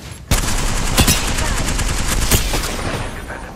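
Gunfire in Apex Legends, a sudden sustained automatic burst after a moment of quiet, with sharp individual shots standing out, loud and close as the firing rattles on for about three seconds before easing.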